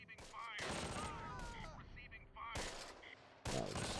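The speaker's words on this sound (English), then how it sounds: "just mortaring the hell out of them" In the video game Close Combat, a mortar and gunfire barrage crackles as bursts of rapid shots and sharp blasts in clusters, with brief gaps between volleys and one loud burst near the end, while a voice talks intermittently.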